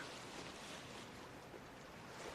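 Wind-driven waves wash around traditional Frisian skûtsje sailing boats racing in the Skûtsjesilen at De Lemmer after days of strong wind. A steady, faint rushing of water and wind noise fills the short stretch, with no voices.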